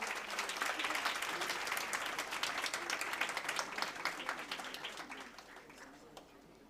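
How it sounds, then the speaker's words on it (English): An audience applauds achievers at a medical institute induction function in a hall, with sustained dense clapping that gradually thins and fades toward the end, and faint voices underneath. "Let us have a huge round of applause again for all our achievers."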